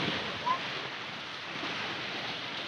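Strong sea waves and gusting wind roar steadily during a storm at sea around an anchored boat, a dense, unbroken wash of noise that stays fairly even throughout.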